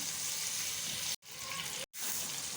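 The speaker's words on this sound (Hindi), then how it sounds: "तो थोड़ा सा इसको सौते करें तमाम चीज़ों को।" Kabab masala ingredients sautéing in a pan, giving a steady, close sizzle and hiss that breaks off twice for a moment before carrying on.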